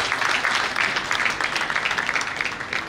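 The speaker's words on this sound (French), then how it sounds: "je voudrais qu'on acclame très fort" An audience at the Abidjan launch of the Djaka Festival, Adja edition 2022, cheers the festival's commissioner general with steady, dense applause that stays loud throughout.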